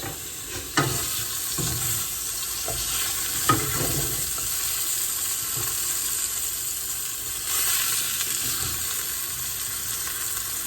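Chicken pieces sizzle in oil in a pan with a steady hiss, and several sharp crackles and pops stand out as more oil is added and the food is stirred.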